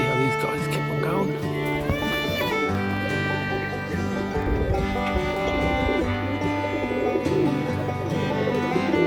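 Serbian Highflyer pigeons coo softly and repeatedly in a cage, low murmuring calls running under continuous background music and some chatter.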